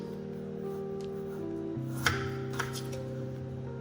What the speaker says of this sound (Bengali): দুফালি করে কেটে নিলাম নিয়ে এবারে আমি এগুলো ডুমো করে কেটে নেব